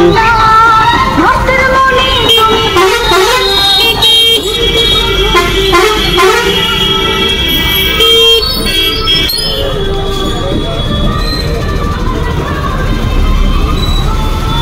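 Ola electric scooter ridden through a crowded road, with dense traffic noise, repeated vehicle horns honking near and far, and a continuous roar of surrounding engines.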